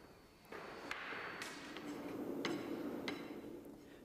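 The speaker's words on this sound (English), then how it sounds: "The last compaction of the sand in the drag is carried out using a flat rammer." A flat rammer packs sand into the drag of a foundry casting mould, giving several dull thuds at irregular intervals over a steady low hiss of background noise.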